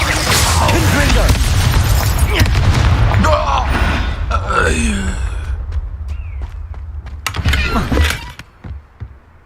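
A Confringo fire spell bursts in Hogwarts Legacy combat, a loud booming blast amid a busy fight with grunts and gasps, followed by scattered sharp impacts and a final thump as the noise dies down.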